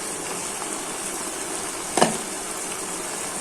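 Garlic paste, chili powder and turmeric frying in hot oil for an okra and tilapia curry, a steady dense sizzle with one brief sharper spatter midway.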